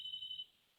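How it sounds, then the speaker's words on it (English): An office telephone rings from another room, a faint, thin electronic trill lasting under half a second before fading into near silence. "Sorry about that phone ringing back in the other side of my office."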